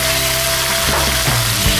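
Dried red chillies and curry leaves fry in hot oil with mustard seeds and cumin, giving a dense, steady close-up sizzle with faint crackles and no voices.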